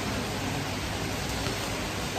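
Heavy rain pours down in a dense, even hiss that stays loud and unbroken throughout, with no voices.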